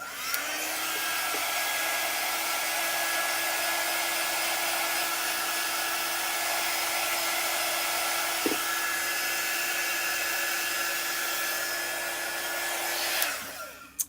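A hair dryer blows steadily on a chalk paste stencil, a close, continuous whooshing hum lasting throughout with no change, then switching off with a click at the end.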